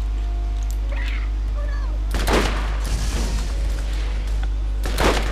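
Gunshots in Borderlands, a burst of loud blasts and booms after a quieter stretch, followed by a second sharp volley near the end, with faint voices in the background.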